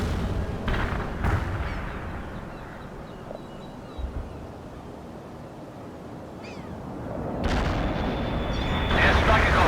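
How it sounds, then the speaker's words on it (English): Artillery fire in the World in Conflict video game, with heavy booming blasts and rumbling explosions over a continuous battlefield roar, while radio voices talk over it. "The artillery rounds are inbound."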